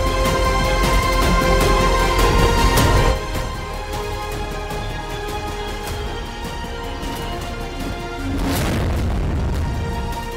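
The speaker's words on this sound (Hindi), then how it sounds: "मंगलवार को देश की तीनों सेनाओं ने पोखरण फायरिंग रेंज में अपनी युद्धक और प्रहार क्षमताओं का प्रदर्शन किया।" Live-fire military exercise at the Pokhran firing range: heavy explosive booms rumble loud and broad, with one blast early and another late, over a continuous background roar.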